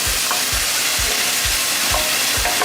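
Onions and ingredients stir-frying in a pan in a professional French restaurant kitchen in Tokyo, with a loud constant sizzle and regular dull thumps of the pan being tossed.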